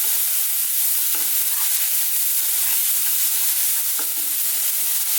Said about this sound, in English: on this kind of fairly lively heat, let's throw these around in the pan just for like 2 to 3 minutes